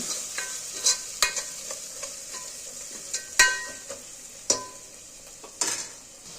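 Ginger paste being stirred into a frying pan while making chapala kura, a fish curry: a steady low sizzle broken by sharp scraping and clacking strokes of a utensil against the pan, close and irregular, with no voices.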